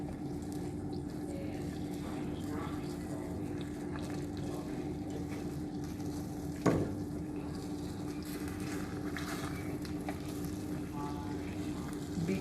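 Apple pieces dropped into hot bubbling caramel in a pan for tarte tatin, giving a steady low sizzle and simmer throughout, with one sharp clatter midway and faint kitchen background.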